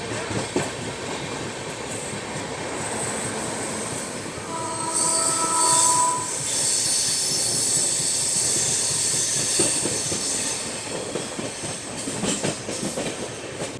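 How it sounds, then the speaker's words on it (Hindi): A Duronto Express train in India overtakes the Telangana Express, with loud rolling wheel rumble, clickety-clack and a high wheel squeal, plus brief horn tones, heard from inside the moving train. "यहाँ पर हम लोग ओवरटेक मार रहे हैं तेलंगाना एक्सप्रेस को।"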